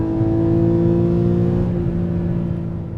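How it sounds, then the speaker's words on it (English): 2013 Porsche Boxster exhaust note under acceleration, a loud, steady raspy engine drone with strong tonal harmonics, heard close and alone, easing slightly toward the end. "the distinctive exhaust note of the Boxster makes you think about, raw, open exhaust race cars"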